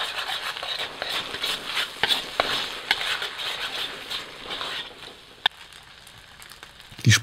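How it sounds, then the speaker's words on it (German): Egg being stirred into rice noodles in a frying pan for pad thai, with a steady scraping and sizzling texture, occasional sharp clicks of utensil on pan, continuous and fairly close. "Das Ei etwas stocken lassen und noch bevor es ganz fest geworden ist, mit den Nudeln verrühren"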